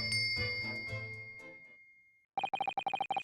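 A bell cord is tugged in the video game The Great Ace Attorney Chronicles, with a ringing electric bell sounding in a rapid series of bright, evenly spaced dings after a fading musical passage.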